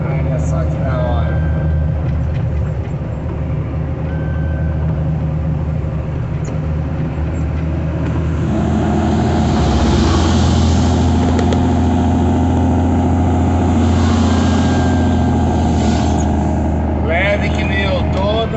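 A car's engine drones steadily as it brakes on the engine descending a mountain road in the Chapada Diamantina, the tone shifting slightly partway through, with someone talking over it.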